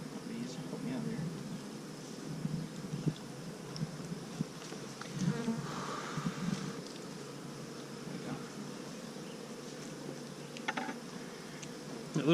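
Honey bees drone steadily throughout an open-hive inspection, with a dense, continuous buzz that swells in places as the colony stirs close by.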